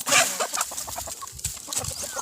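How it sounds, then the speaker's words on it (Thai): Young chickens cluck and chirp close by in a farm setting, a busy run of short calls with one louder squawk at the start, and no voices over them. "อันนี้ก็เป็นไก่หนุ่มๆไก่หนุ่มๆ"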